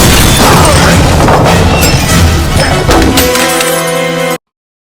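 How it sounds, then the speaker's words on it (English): A glass roof shatters loudly in a James Bond movie, a long, chaotic crash of breaking and splintering, followed by debris tinkling before an abrupt cut to silence. "For instance, when Bond falls through a glass roof."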